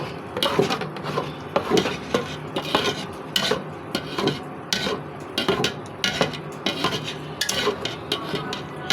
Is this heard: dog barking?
no